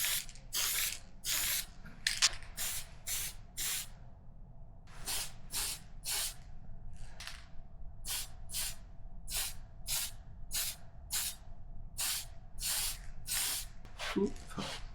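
Spray paint applied to Tamiya 1/10 BT-01 Porsche Carrera 911 RSR body parts in a series of short hissing bursts, roughly a dozen close blasts with brief gaps and a faint mechanical rattle between them.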